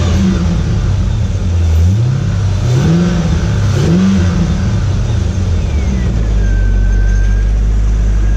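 C5 Corvette V8 running with an aftermarket eBay cold air intake, heard from under the hood as a loud steady idle with a few revs rising and falling, then settling into a constant drone.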